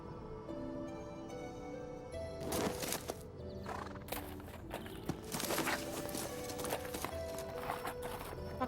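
Horse hooves clip-clop steadily in the video game Koudelka, with whinnies over a bed of game music, the hoofbeats close and fairly prominent throughout.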